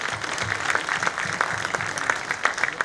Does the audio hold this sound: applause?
yes